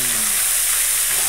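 Food fries in a hot pan after steaming, a loud, constant crackling sizzle held close and alone for a brief moment.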